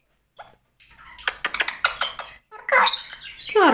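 A pet talking parrot eating a banana lets out a close run of sharp squeaks and chirps, bursts separated by short pauses and growing louder toward the end.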